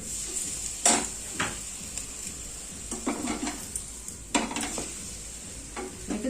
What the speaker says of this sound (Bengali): তেল দিয়ে দেবো তেলটা পুরো গরম হয়ে গেছে এবার দিয়ে দেবো